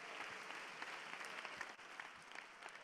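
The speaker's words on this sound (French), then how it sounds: "Je vous demande de continuer vos applaudissements" Applause from an audience at a public youth forum with a French president, a continuous wash of clapping heard at low volume and from some distance, steady for the few seconds without talk.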